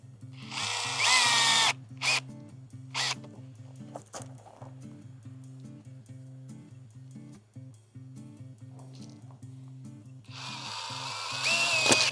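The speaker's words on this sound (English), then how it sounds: "So a little bit more drilling then." A power drill runs in several short bursts while a shade-cloth cover is built over a DIY vegetable garden bed. The drill is loud and close, with quiet pauses and a steady low hum between bursts.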